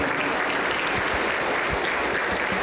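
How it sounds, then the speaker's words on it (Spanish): Spanish-speaking church congregation claps for Jesus during a service, a loud, dense burst of continuous applause filling the room evenly from start to finish. "Aplauso para el Señor Jesús."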